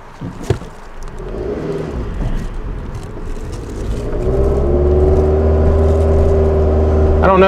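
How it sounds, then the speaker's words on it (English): A Scion xB engine under full throttle climbs a hill at about 2000 RPM and 11 mph, a low steady drone that builds and holds, heard from inside the car. "I'm going a full throttle, 11 miles per hour up the hill at about 2000 RPM."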